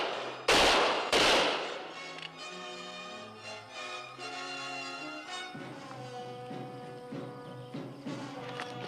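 Soldiers fire a volley: two sharp loud gunshots close together at the start, then orchestral music carries on with faint scattered clatter.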